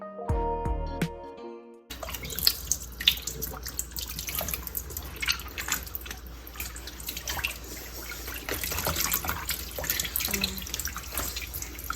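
Water runs steadily from a tap into a sink while chitlins are washed, splashing and dripping continuously after a brief musical bit at the start.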